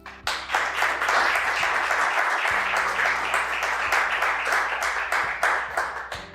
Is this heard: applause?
yes